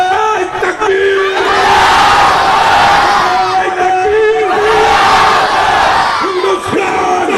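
Large crowd at an AIMIM political rally in Maulviganj roaring a slogan chant in unison, loud and sustained, with swelling waves of shouting voices filling the whole stretch.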